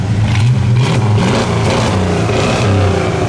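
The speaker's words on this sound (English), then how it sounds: "Rev that up quick while I sneak around back." A loud 383 V8 engine in a 1968 Plymouth Road Runner with dual exhaust revs repeatedly, its deep rumble rising and falling in quick bursts, close by and heard alone.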